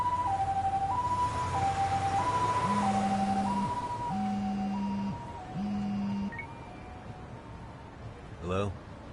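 A two-tone ambulance siren from the video game Lost Judgment wails in alternating high and low pitches, loud and steady throughout, with a voice speaking over it and a brief bright electronic chirp near the end.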